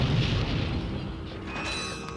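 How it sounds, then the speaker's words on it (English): A missile blast in Ratchet & Clank, a short booming burst that fades into a rumbling tail, heard alone without talk. "now shoot this missile around a corner"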